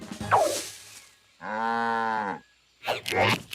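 A cartoon cow moos once in a long, loud, steady low call, with other brief animal-like sounds before and after it.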